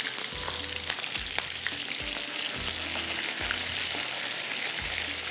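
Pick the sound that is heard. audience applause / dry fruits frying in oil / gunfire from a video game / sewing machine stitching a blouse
dry fruits frying in oil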